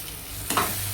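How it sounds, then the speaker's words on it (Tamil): A spice masala of chili powder, coriander powder and garam masala for a squid gravy is stirred in a frying pan, giving a short close scrape over a steady sizzle. "இப்போ இது எல்லாத்தையும் சேர்த்து கிண்டலாம்."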